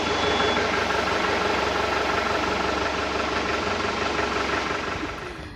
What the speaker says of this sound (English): We're gonna crank the motor and whew, see how she does.